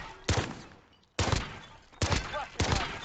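Renetti handgun shots in Modern Warfare, four sharp close reports in an uneven rhythm, each decaying quickly into a short echoing tail, with brief pauses between.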